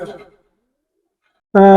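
A brief murmur fades into quiet, then a high-flying pigeon's low, throaty coo starts up close at the very end, at a pigeon loft.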